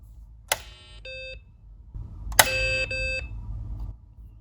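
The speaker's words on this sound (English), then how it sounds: "I just want to see if it beeps." Two short electronic beep sequences from a BBC Micro B computer starting up ring out a moment apart, each a sharp click followed by clear tonal bleeps, over a low hum.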